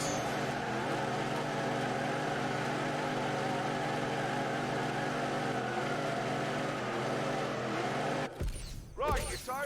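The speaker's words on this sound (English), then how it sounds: "No, that was just a celebratory burnout." A car does a celebratory burnout in The Grand Tour Game, a steady droning engine roar with tyre noise that holds for several seconds and then cuts out abruptly, followed by a brief voice.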